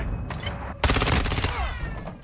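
Gunfire crackles in a Call of Duty match, with a few sharp reports and then a dense, rapid burst of shots rattling close together, loud and immediate.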